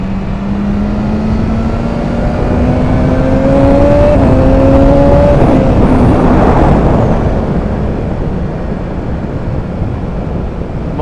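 BMW S1000RR motorcycle engine revving while riding, a loud close drone rising in pitch through the gears, with brief shifts and a steady wind-roar underneath.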